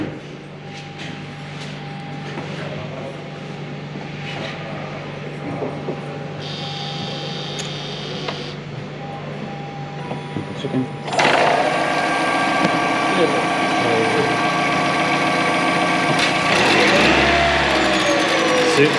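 A Toyota RAV4 Hybrid, which has a crankshaft sensor fault, cranks, catches and then runs with a steady, loud engine note. Quieter workshop hum comes first, and voices talk over it.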